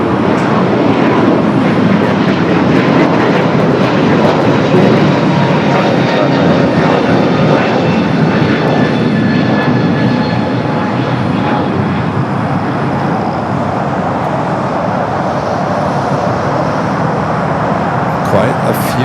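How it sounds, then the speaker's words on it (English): A Hawaiian Airbus A321neo takes off from LAX's south side, its engines a loud sustained roar that slowly eases as it climbs away, with a voice talking underneath. "It's a third Hawaiian A321 Neo taking off here on the south side."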